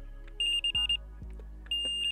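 A Wolf Icon Q fishing bite alarm set to maximum sensitivity sounds a series of single-tone electronic beeps, short and sharp, in several quick bursts with pauses between, close and clear with no talk.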